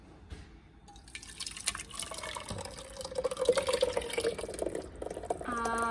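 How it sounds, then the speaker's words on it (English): Blended tomato soup poured from a container into a cooking pot, a steady liquid splashing and dripping that builds over several seconds, close and moderately loud with kitchen clatter at the start. "now I'm going to pour this into my pot"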